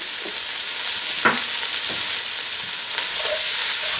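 Salami, onion and garlic fry in a pan after rabbit has been browned, giving a steady close sizzle with a few soft stirring knocks throughout.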